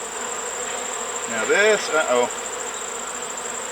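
Honeybees hum at an open hive in a steady, droning buzz, swelling briefly as a few bees pass close, while someone speaks over it.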